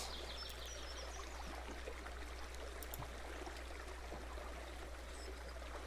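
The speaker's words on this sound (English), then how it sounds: "You see there's water running all along the water that kind of bisects the fairway landing area" Running stream water crossing a golf fairway in the video game Action! PC Golf 2021, a quiet, steady trickle and babble with faint chirps over a low constant hum, no voices.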